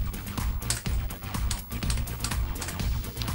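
Typing a command on an Amstrad PC1512 keyboard, a steady run of close, clicky keystrokes in irregular rhythm with no talking.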